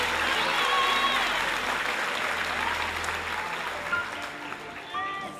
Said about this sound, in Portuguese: Uma salva de palmas para esse povo que está lá fora.